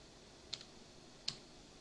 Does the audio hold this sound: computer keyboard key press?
yes